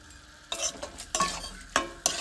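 Roll filling mixed with a cornflour slurry in a pan gives four distinct scraping stir strokes with a wet, faintly sizzling texture, close and fairly loud.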